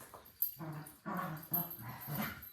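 A dog whimpers and whines in short, strained bursts with low growly undertones, close by and fairly quiet, during a home workout.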